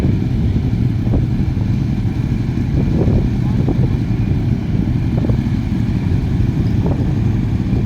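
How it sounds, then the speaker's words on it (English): A Ducati and a 1000cc Kawasaki Ninja race at a drag strip, their engines a steady, heavy low rumble heard from a distance, with faint clatter and a crowd-like background throughout. "Ducati versus 1000cc Kawasaki Ninja."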